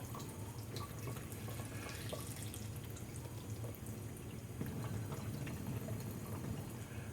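Tap water runs slowly into a NUIDK AuLINX giant crystal-clear ice ball maker, a steady close splashing trickle with drips that continues without a break and never stops flowing.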